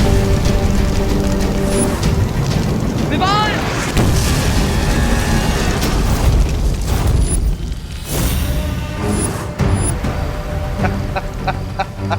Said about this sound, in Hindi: लेकिन अब इसी तोप से मैं तुम दोनों का अंत करूंगा।